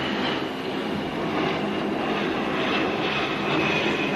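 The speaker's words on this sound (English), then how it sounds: "casting an eye up to the aeroplane overhead" An aeroplane passes overhead during a 1971 US Open tennis match, a steady broadband engine roar at moderate loudness, with no voices and only slight swells over a few seconds.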